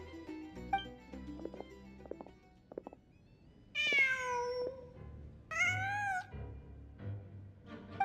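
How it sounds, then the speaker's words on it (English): Cat meowing in the video game Genshin Impact, two drawn-out, loud meows after some soft ambient game sounds and small clicks. "Just a cat."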